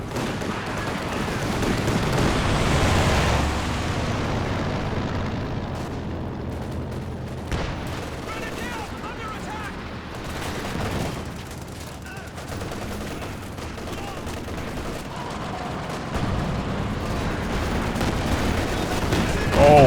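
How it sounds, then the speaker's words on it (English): A walking Stuka rocket barrage in Company of Heroes 2 sets off a rolling series of explosions and gunfire, loud booms layered with scattered shots across the battlefield. "Pretty good walking Stuka barrages for Kilder."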